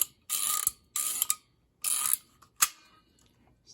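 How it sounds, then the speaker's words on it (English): A fire alarm pull station lock being reset: four loud ratcheting bursts of clicking metal, each lasting a fraction of a second with short pauses between, heard up close in a quiet room. "The lock is very noisy"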